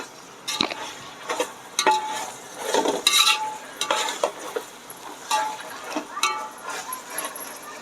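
Tomatoes frying in a pan while being stirred, with a steady sizzle under repeated scraping and clinking of a spoon against the pan in irregular bursts, close and moderately loud.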